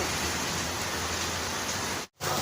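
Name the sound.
rain falling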